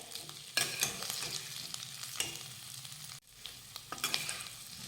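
A spoon stirs boiled, peeled potato pieces with turmeric in a hot pan, producing soft scraping strokes over a gentle sizzle, close and fairly quiet, with no talking.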